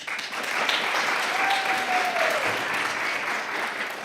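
Theatre audience applauding steadily throughout a live radio-play staging of A Christmas Carol, a dense, continuous wash of many hands clapping at moderate distance with no talk over it.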